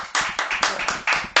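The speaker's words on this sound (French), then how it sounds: "je l'applaudis, Yannickette." Handclapping at a French TV talk-show taping, a run of sharp, close claps in uneven bursts, loud and dry, with no speech over them.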